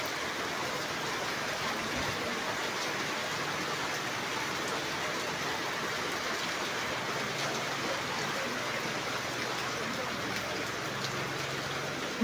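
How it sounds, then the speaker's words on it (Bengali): Steady, continuous rain pours down without a break, forming an even wash of patter and runoff across the whole stretch at a constant level, with no voices. "বৃষ্টির বন্ধ নাই।"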